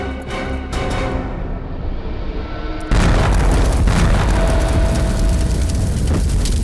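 A loud explosion blast erupts after a quieter rumbling lead-in, followed by a sustained, roaring wash of debris and noise that fills the remaining seconds.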